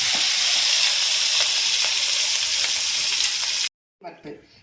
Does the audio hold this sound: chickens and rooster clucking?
no